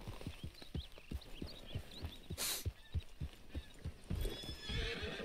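A horse in Red Dead Redemption 2 clip-clops along at a steady walking rhythm, close and clear, with a whinny rising partway through.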